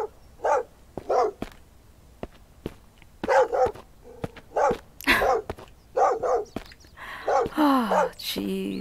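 A dog barks repeatedly in the survival game Mist Survival, a series of sharp, moderately close barks in an uneven rhythm, ending in a burst of yips and whimpers.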